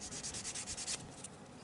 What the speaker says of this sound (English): a sanding stick.